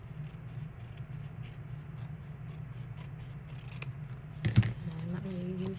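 Scissors snip through decorative paper for a gift bag junk journal, a quiet steady cutting texture running close and soft throughout, with a brief louder rustle near the end.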